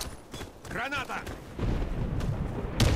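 Grenade explosion in the video game Warface: a heavy low boom rolls in and sustains with a rumbling tail, preceded by a shouted voice and scattered gunfire.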